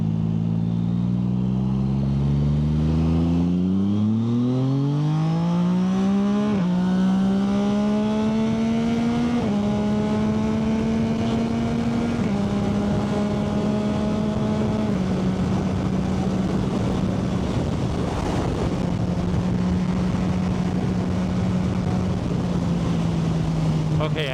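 A tuned Yamaha MT-09 motorcycle accelerates hard in second gear. Its loud engine note climbs steeply, steps upward in a few surges, then holds a steady high drone under constant rushing wind.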